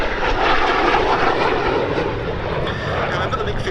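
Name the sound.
MiG-15 jet aircraft at Duxford air show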